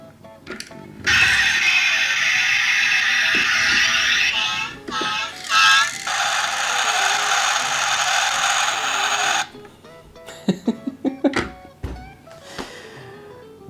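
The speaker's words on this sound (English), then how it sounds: "when you pull it back, the lights flash and it plays a cycle of sound effects" A die-cast 1:20 scale M35 military truck toy plays a cycle of electronic sound effects, bright buzzing bursts lasting several seconds, followed by scattered clicks and handling noises.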